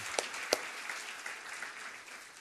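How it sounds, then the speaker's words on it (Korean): A church congregation at a Seoul worship service applauds, a faint, soft spread of clapping with two sharper nearby claps early, then thinning into a quiet patter. "다 함께 박수로 보겠습니다"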